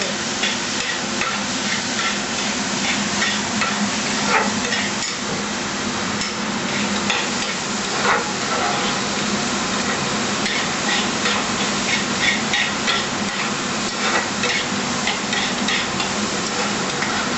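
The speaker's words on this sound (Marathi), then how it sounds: "डाळ तांदूळ चांगले परतून घ्यायचे." Dal and rice being stirred and roasted in a pan for khichdi, a continuous dense rattling and scraping with repeated clacks of the spoon, close and steady throughout.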